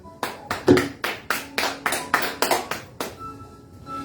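About a dozen sharp, evenly spaced claps ring out in a steady rhythm, then stop, leaving a quiet room tone.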